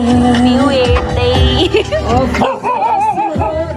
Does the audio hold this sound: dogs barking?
yes